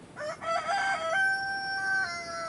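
A rooster crows loudly and close by on a farm, one drawn-out call with a rising start and a long held tone, heard alone.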